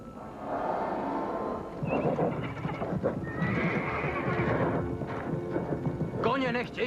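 Several horses whinny and neigh loudly nearby while their hooves clop unevenly, with a few shrill, wavering calls rising over the trampling.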